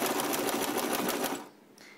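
A sewing machine backstitching fabric in reverse while sewing a diaper wipe, its needle running in a fast, close, steady rhythmic whir for about one and a half seconds before it stops.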